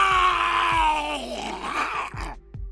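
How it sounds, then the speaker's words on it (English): A drawn-out, descending creature death scream for monster sound design, loud and strained, sliding down in pitch and breaking into a rough groan before trailing off, with a few low thumps around it. "I kind of wanted to look for some death screams."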